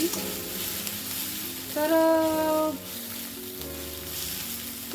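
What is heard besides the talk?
samosa vegetable filling frying in oil with coriander seeds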